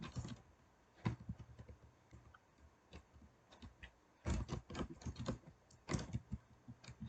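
Irregular keystrokes on a computer keyboard, clicking in uneven bursts with short pauses between runs of typing, close and fairly quiet.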